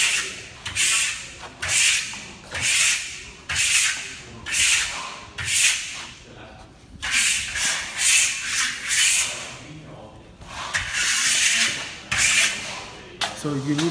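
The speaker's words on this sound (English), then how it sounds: "a 200 by 80 burnishing trowel to burnish, compress the final coat, very important." A 200 by 80 burnishing trowel works over a final coat of marmorino Venetian plaster, producing repeated close rubbing, scraping strokes in a steady rhythm of about one sweep per second, with brief pauses between passes.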